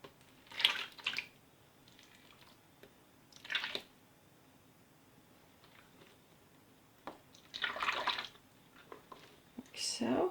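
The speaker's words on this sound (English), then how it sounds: "I'm going to pour a little bit in to start." Thick white tallow soap batter poured into a large mold, heard as several separate soft wet glugs and splats with quiet pauses between them.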